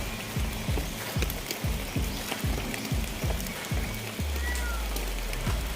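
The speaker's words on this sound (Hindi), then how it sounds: "हालांकि बारिश हो रही है" Rain falls at a hill resort in Chikmagalur, a constant hiss of drops on surfaces, close and even, with a run of regular low thumps and a short low hum near the end.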